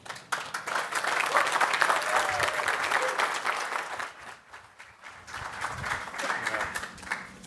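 An audience applauds at a dedication ceremony for an EnerVault energy storage facility in Turlock. The clapping is loud and steady for about four seconds, dips, then returns in a lighter patter.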